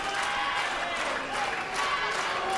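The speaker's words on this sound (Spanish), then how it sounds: "La gente aplaudía, por momentos se paraba." A crowd at an amateur boxing match applauding, a steady wash of clapping and crowd noise throughout, with a voice talking over it.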